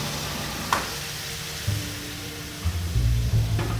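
Spiced masala for tandoori matka chicken gravy sizzling in a pan as water is poured in, a steady hiss with a few sharper spits and bubbling bursts, close and alone.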